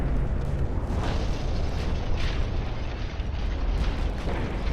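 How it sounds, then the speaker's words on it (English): Battleship gun salvo in the naval video game Ultimate Admiral Dreadnoughts, a loud, continuous rumbling boom with overlapping blasts that roll on without pause, heard alone with no talking. "Another salvo's on the way to the Jean Bart."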